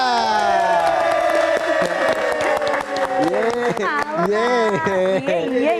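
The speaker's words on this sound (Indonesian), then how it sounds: "Kita kasih tepuk tangan sekali lagi." A studio audience claps and cheers to welcome a singer on a late-night live talk show, a loud sustained crowd roar with whoops and bright musical tones running through it.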